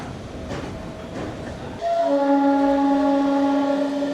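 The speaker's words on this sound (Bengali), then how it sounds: "দেখো নির্ধারিত সময় 7:30 ট্রেন আমাদের ছেড়ে দিল শিয়ালদা স্টেশনের 12 নম্বর প্ল্যাটফর্ম থেকে।" An Amrit Bharat Express pulls out of platform 12 at Sealdah station, first with low rumbling and knocks, then a loud sustained multi-tone horn that holds strongly to the end.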